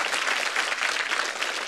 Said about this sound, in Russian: Ваши аплодисменты, друзья, давайте.